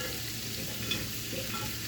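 Vegetables sizzle steadily on a skillet over a low fire, a constant, even frying hiss with no talking.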